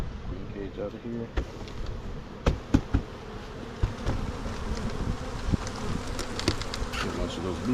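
Honey bees at a hive being split for winter, a dense close buzzing that goes on throughout, with sharp knocks and clicks of hive equipment and a person talking now and then.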